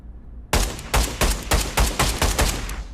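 An AK-12 rifle in the VR shooter Pavlov opens up after a brief silence with a rapid string of loud, sharp gunshots, about eight cracks spaced evenly over two and a half seconds.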